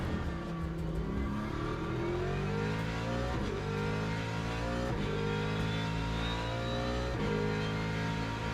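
A Le Mans Ultimate hypercar engine at Spa, loud and near, revving hard up through the gears on the straight, with several clean upshifts dropping the pitch before it climbs again.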